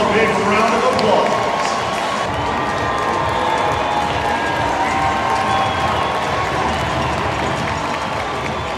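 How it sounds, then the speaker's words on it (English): Stadium crowd noise at halftime of an amputee soccer exhibition, a dense, steady roar of cheering and scattered clapping from many fans, holding at a constant level for several seconds with voices mixed into the wash. "Fans, let's give them all a big round of applause."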